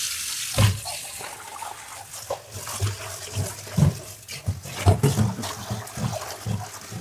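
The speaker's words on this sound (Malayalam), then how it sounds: "മീൻ കഴുകുക." Tap water splashes in bursts as fish is rinsed under a faucet, with irregular close-up sloshing and handling sounds, moderately loud with no talk.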